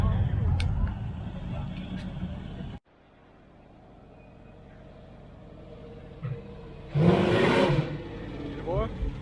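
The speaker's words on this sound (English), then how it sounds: "I hear a blower. Like a Pro Charger." A blower-supercharged car engine revs at a Caffeine and Octane car meet in Atlanta. A loud rumbling roar cuts off abruptly, then a quieter stretch builds to another brief roaring burst, with people talking throughout.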